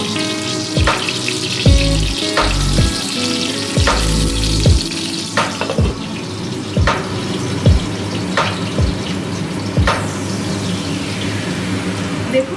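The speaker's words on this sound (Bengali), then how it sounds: "দেখুন বেগুনটা আমার ভাজা হয়ে গেছে" Brinjal fries in a mix of oil and ghee with a continuous close sizzle, broken by repeated clunks and knocks of utensils against the pan.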